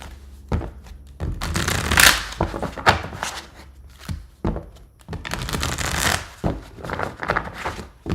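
Tarot cards shuffled by hand close up, with repeated riffling and flapping bursts broken by short taps and thumps as the deck is squared.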